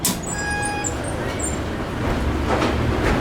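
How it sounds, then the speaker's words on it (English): Dover hydraulic elevator at the Bellagio in Las Vegas going up, a steady low motor rumble filling the cab, with a few brief high chimes or tones near the start. "Wait until you hear this motor going up."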